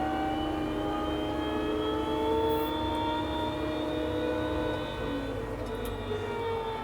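New Holland W100 wheel loader engine running loud and close, a steady droning hum that holds evenly and swells slightly as the throttle opens, with no talking.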